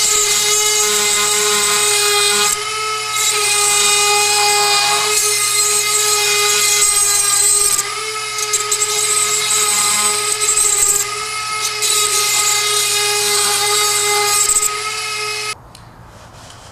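High-pitched whine of a power tool cutting deep into soft metal, a loud steady tonal scream held for about fifteen seconds with slight pitch shifts before it suddenly stops.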